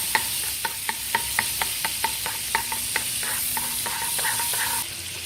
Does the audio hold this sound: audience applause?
no